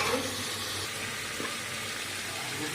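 Raw jackfruit pieces hitting hot oil and cooked meat in a pan, a steady broadband sizzle that holds evenly for a couple of seconds at close range, with no talking over it.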